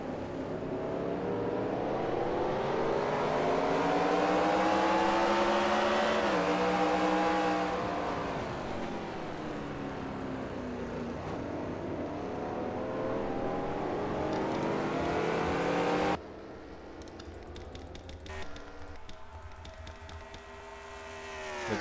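Race cars in a Nitecar Splert Cup Series video game race at Riverside roar loudly with high revving engines, pitch sweeping up and down as a pack passes, then a quieter, rougher engine drone in the final seconds.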